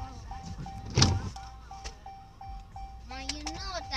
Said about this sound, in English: It's called a car noise